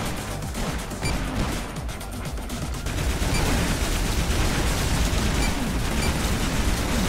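Rapid weapon fire and blasts in the arena shooter Toxikk, with dense overlapping shots and explosions that keep up a steady, loud roar throughout.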